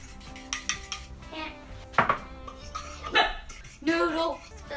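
A fork clinks against a bowl while whisking buttermilk, a few quick light taps and scrapes mixed with speech and brief vocal sounds nearby.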